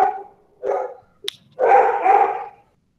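Small dogs bark in separate bursts nearby: a couple of short barks, a brief yip, then a longer volley of loud barking, with silence between.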